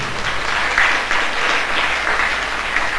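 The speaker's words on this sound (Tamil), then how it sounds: "கைத்தட்டி ஆண்டவருக்கு நன்றி செலுத்துவோம்" A church congregation at a Tamil Catholic service at St. Francis Xavier Church, Melvizhi, breaks into steady, dense applause that fills the whole stretch at even loudness, with no speech over it.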